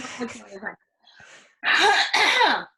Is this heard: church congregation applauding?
no